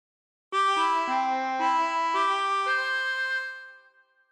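Harmonica playing the opening phrase of the Star Spangled Banner, a clean sequence of about five blown notes stepping through holes one to four, close and alone, with the last note fading out.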